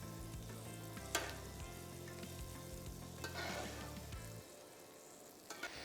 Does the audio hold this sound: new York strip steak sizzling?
yes